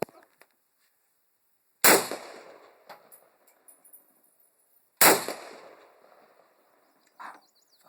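Two loud, close gunshots from a Romanian AK-47 Draco pistol with pistol grip and 11.5-inch barrel, fired about three seconds apart indoors, each a sharp crack with a ringing decay and small metallic clinks between.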